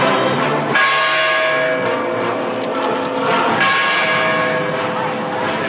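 Balangiga church bells ring loudly and continuously, with sustained overlapping tones and repeated strikes filling the whole stretch, and a crowd murmurs faintly underneath.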